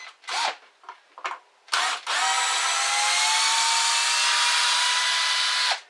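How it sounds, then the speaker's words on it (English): A few brief knocks and scrapes, then a Ridgid R82007 12-volt cordless pocket drill in drill mode whirs steadily for several seconds at close range before cutting off. "you've got your drill mode where you can do drilling"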